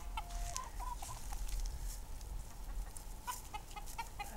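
Soft clucks from a mostly black, bushy-feathered hen near a backyard bush, coming as faint, scattered calls over steady outdoor background noise.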